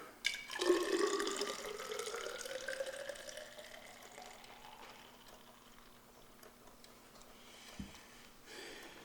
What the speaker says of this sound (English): let's pour some of our solution in here.